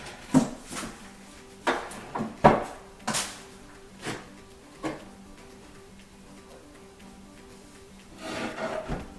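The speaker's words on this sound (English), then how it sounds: "I'm going to put the dovetail fitting together for the rear of the drawer." Wooden dovetail joint at the rear of a ready-to-assemble cabinet drawer being fitted together, heard as a series of close knocks, taps and rubbing scrapes spaced irregularly, then a softer rustling stretch near the end.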